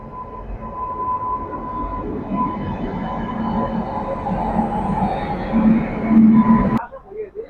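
The low rumble of a locomotive-hauled train rolls on steadily with a faint tonal hum, with people talking nearby, before the noise abruptly drops away.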